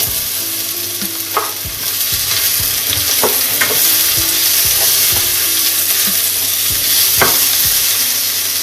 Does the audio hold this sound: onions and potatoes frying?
yes